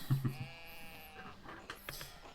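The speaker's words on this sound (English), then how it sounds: "Oh, the sheep" Sheep bleating in the video game Pentiment, a couple of short, loud bleats near the start followed by softer background ambience.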